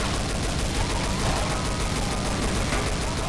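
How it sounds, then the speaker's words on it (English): Dense, rapid gunfire from shooting zombies in a multiplayer video game fills the clip, a loud continuous barrage of overlapping shots with no pause. "Shoot the goddamn poison zombies."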